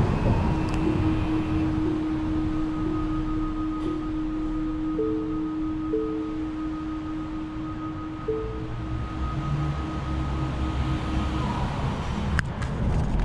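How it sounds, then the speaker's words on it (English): A Tesla Model 3 pedestrian warning reverse sound: a steady electronic tone hums continuously with repeating short beeps layered on top, echoing in a parking deck over a broad background rumble. "so that was the reverse sound in a parking lot deck."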